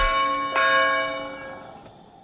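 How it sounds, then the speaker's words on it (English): Town center bell in Age of Empires 4, a single bright metallic strike that rings out with long decaying overtones, followed by a faint second tap near the end. "What sound does the town center make?"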